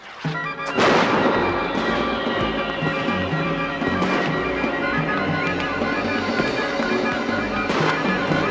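Outdoor fireworks explode in a dense, continuous barrage of booms and crackles on a night of celebration, with several sharper loud bursts standing out against a rumbling wash of sound.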